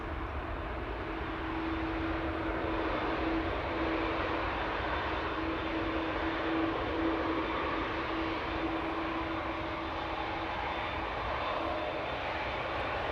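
An ITA airliner departs Amsterdam Schiphol bound for Milan, its engines giving a steady, sustained broadband roar with a faint tonal whine running through it, holding level throughout with no talking.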